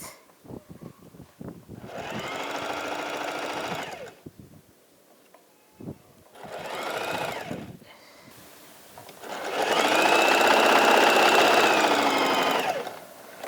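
A sewing machine stitches the neck edge of a garment in three runs of whirring, the last one longest and loudest, with quiet handling clicks and rustles between runs and no talking.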